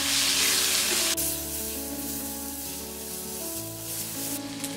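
Cooked rice stirred into softened onion and tomato in a hot pan, a loud steady sizzle near the mic that settles slightly once the rice goes in, with faint scraping of the spoon.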